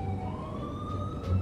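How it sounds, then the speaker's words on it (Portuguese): In the Metroville city game, an emergency siren holds a slowly rising wail above a rumbling vehicle drone, sounding near and steady with no voices. "Sirene se aproximando"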